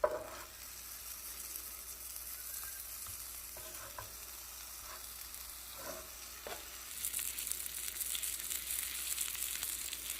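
A shrimp taco with cheese fries in a hot pan, giving a faint, steady sizzle and crackle, punctuated by a few soft clinks and scrapes of a utensil, with no voices.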